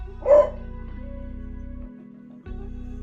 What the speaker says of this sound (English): my dog sounds like he's dying.